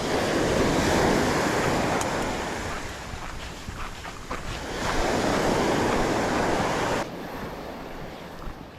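Sea waves surge and break against a long rock breakwater as strong wind buffets the microphone, a loud continuous roar that swells and eases, with no voices.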